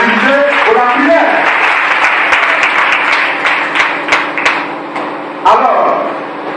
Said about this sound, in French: Et je vais vous demander d'ailleurs d'acclamer l'enseignement de Dieu.